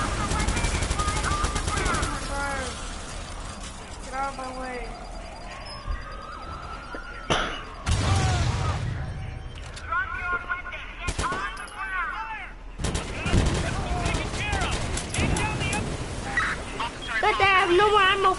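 Gunfire in the Watch Dogs video game, with repeated shots and bursts amid sirens and chaotic game sound, as a player talks throughout.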